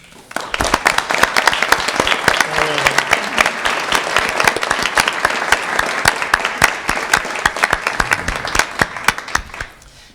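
A room at a board of trustees meeting breaks into applause after a speech, rising quickly to a full, loud, dense clatter of many hands, holding steady, then fading toward the end.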